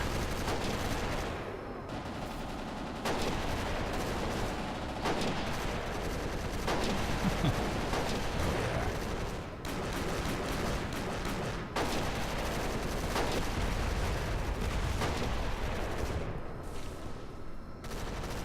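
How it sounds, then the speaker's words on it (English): Dense automatic and rapid gunfire from a heavily modded Crysis game, crackling continuously with layered bursts and explosions at steady loudness, no talking. "Where all that gunfire is coming from."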